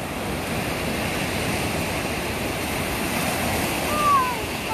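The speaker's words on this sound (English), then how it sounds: "Look at the wave there." Ocean waves break on the surf beach at Tofino, British Columbia, a steady, broad wash of surf rolling continuously at moderate loudness with no clear separate crashes.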